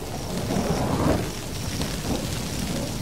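Thunder rumbling through a lightning storm over dry grassland in the Brazilian wild, where the strikes spark fires instead of rain; a low, steady rolling rumble that swells near the middle and holds throughout, with no voices.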